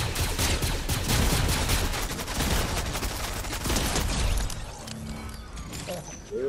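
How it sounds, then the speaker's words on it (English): Rapid video-game gunfire in Fortnite with shotgun blasts, dense overlapping shots for several seconds that thin out near the end, while people talk over the shooting. "Yeah, shotgun."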